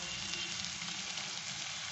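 Vegetables frying in a pan for glass noodles, a soft continuous sizzle heard close and quiet without speech.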